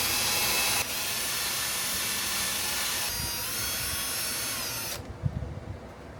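A wire wheel on a drill scours rust from an MGB part with a loud, sustained high whirring grind that shifts pitch slightly before cutting off, followed by a few faint knocks.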